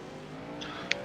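Race cars run laps at Martinsville Speedway on worn tires, their engines a steady, moderately distant drone, with a brief high tire squeal near the end.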